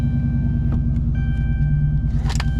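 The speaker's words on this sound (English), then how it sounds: "Here's what the car sounds like from the inside." A steady, low engine rumble heard from inside a Dodge Charger Pursuit, idling evenly with a few faint clicks and rustles near the end.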